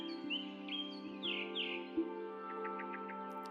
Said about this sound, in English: You hear the sound of the birds?